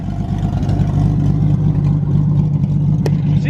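A $500 Mustang drift kart idles with a steady, loud mid-pitched engine drone and a low hum, running smoothly after fresh spark plugs, with a brief sharp knock near the end.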